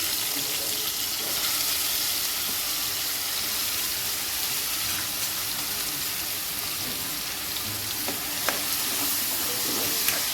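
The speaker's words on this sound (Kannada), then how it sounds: "ಮೊದಲಿಗೆ ಈಗ ನಾನು ಕಟ್ ಮಾಡಿದಂಥ ಈರುಳ್ಳಿಯನ್ನು ಹಾಕ್ತಾ ಇದ್ದೇನೆ" Chopped onions sizzle and fry in a hot pan, a steady close crackling hiss that runs unbroken throughout.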